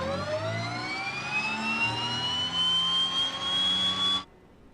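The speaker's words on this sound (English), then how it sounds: "Boost pump is on, starting the right engine." A DHC-6 Twin Otter's right engine spooling up in a flight simulator, a loud rising turbine whine climbing steadily in pitch over a low rumble, then cutting off abruptly, leaving quiet background.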